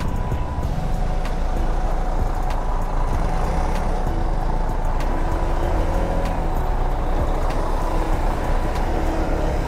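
Heavy road traffic crawling past roadworks, with cars, trucks and buses rumbling steadily and loudly close by throughout, faint brake hiss and clatter mixed into the dense continuous drone.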